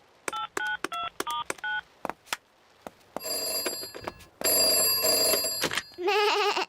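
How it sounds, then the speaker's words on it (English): Telephone dialing in a Peppa Pig cartoon: a quick run of button tones, then a ringing tone repeated a few times, ending in a short bleating sheep-like voice answering. "Let's ring her."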